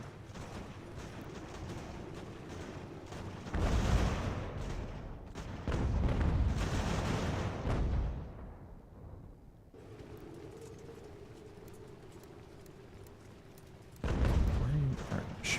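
Musket and artillery fire in Ultimate General: American Revolution, bursts of booming and crackling volleys around a fort that come and go in loud waves with quieter lulls between.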